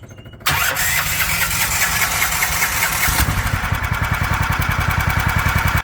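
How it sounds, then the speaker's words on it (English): A HISUN UTV fitted with a swapped big block engine cranks briefly, then catches and roars up loudly before settling into a steady, rhythmic idle with a pulsing low beat, close by. "the engine started and it idles perfectly now"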